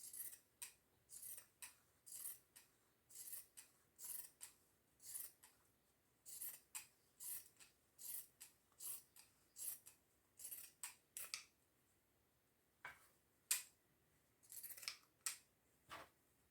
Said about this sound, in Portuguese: eu vou cortar com a tesoura.